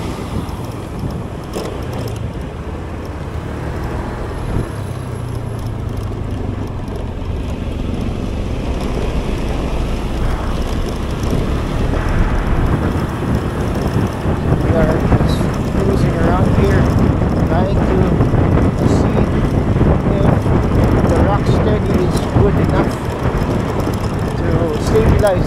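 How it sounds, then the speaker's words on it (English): Continuous wind buffeting and engine rumble from a moving motorcycle, growing louder and rougher as the ride picks up speed. "This shot because I'm riding a motorcycle right now."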